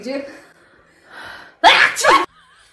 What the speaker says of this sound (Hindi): छींक